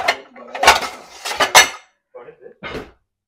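A lid goes onto a pot of cooking rice with several loud, close metallic clanks and rattles, then a couple of softer knocks as it settles.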